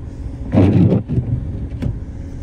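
A car creeps through fresh, still-falling snow in existing tire tracks on a road to a farm, giving a brief muffled rumble of engine and crunching tires that swells and then fades into a low, steady hum.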